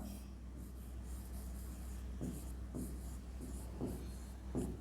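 Handwriting numbers with a pen or pencil on paper during a Bengali-language maths lesson: a series of soft scratchy strokes at close range, coming in short bursts over a low steady background hum.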